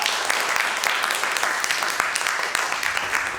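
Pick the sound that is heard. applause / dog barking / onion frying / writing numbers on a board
applause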